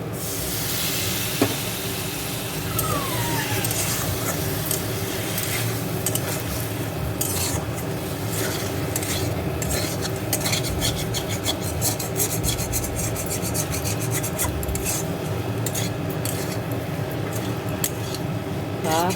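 Potatoes are stirred in a pan while a little water is added, producing continuous scraping and rasping from the utensil against the pan over a steady hiss and sizzle, close and constant.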